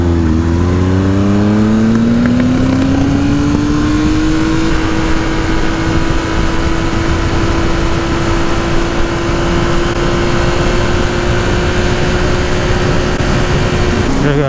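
A 2018 Triumph Speed Triple 1050 S motorcycle engine runs steadily and loudly as its tone climbs and then settles, with a low burble under heavy wind rush while riding.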